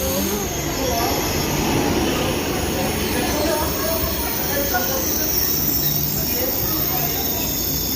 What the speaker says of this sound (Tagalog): Ayan pala yung KTX.